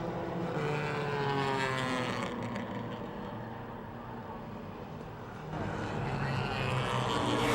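Charger class race cars at Motordrome Speedway run at full speed, a loud sustained engine roar that swells, dips briefly as the pack passes, then rises again.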